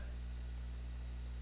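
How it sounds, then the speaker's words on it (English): Two short bursts of cricket chirping arrive about half a second apart, each a quick high trill, over a quiet low hum. "Crickets."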